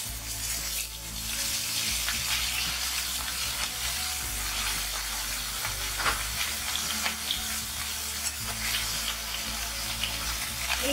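Small salted, turmeric-rubbed baby rohu fish fry in hot oil with black cumin, a steady, loud, dense sizzle that runs throughout with occasional spatters and a low background hum.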